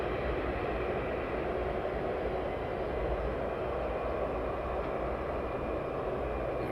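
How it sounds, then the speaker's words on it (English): FedEx Boeing 757 taxiing after landing at East Midlands Airport, a steady, continuous jet engine rumble and roar heard from a distance, unchanging throughout with no voices. "FedEx 757 just landed, so he'll taxi off nice and early."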